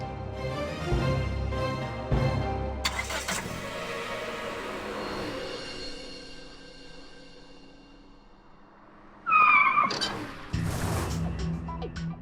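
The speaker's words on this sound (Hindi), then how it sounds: "अरे खड़ी गाड़ी को ठोक दिया।" A car skids and crashes into a parked car, with a sharp screech and heavy impact bursts near the end, following an earlier crashing hit amid a dense, loud mix of other sound.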